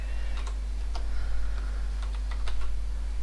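A few scattered keystrokes click on a Maltron one-handed keyboard, brief separate taps over a constant low electrical hum, close and quiet.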